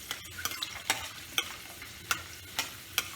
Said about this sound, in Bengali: আমার কাঁচা বাদাম ভাজা হয়ে গেছে